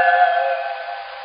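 A train whistle blows loud and close, a single sustained steady tone with layered harmonics that fades slightly over its length.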